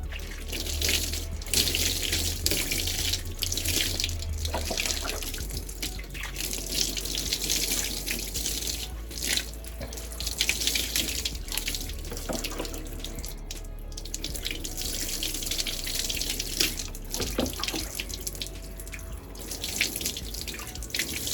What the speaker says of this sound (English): Now I'm just gonna rinse that out again.